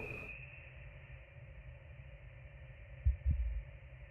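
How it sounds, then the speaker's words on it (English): A planet's heartbeat in the cosmic horror game Voyager-19: two deep, muffled thumps close together over a low steady hum, with no voices. "an entire planet has a heartbeat"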